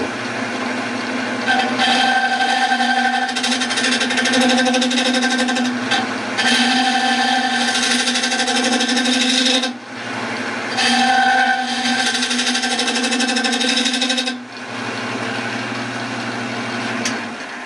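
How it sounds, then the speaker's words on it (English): Freshly sharpened David Ellsworth gouge cleaning up the inside of a wooden bowl on a lathe, heard as a continuous loud humming motor drone with steady scraping, close and unbroken for the whole stretch. "Now with the David Ellsworth gouge, freshly sharpened, clean up the inside."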